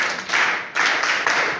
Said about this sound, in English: Please let's clap for Mr. Ibrahim Tati Kogoma.